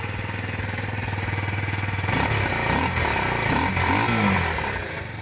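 A 2025 Kawasaki Z125 single-cylinder motorcycle, heard near its exhaust, idles with a steady buzzy putter, then revs up and down in a few quick bursts before settling back.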